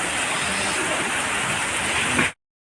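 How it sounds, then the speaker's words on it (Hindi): Heavy rain pours down steadily in a dense, loud wash of noise that cuts off abruptly; no distinct thunder stands out. "कितनी भयंकर बारिश हो रही है।"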